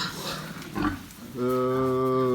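Six-day-old piglets from a litter of thirteen on a farm grunt and squeal up close, with rough snorts giving way to a loud, sustained tonal squeal.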